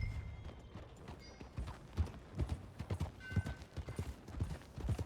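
Horse hooves clip-clop at a steady riding gait in the video game Red Dead Redemption 2, moderately close, with faint background ambience and no talk over them.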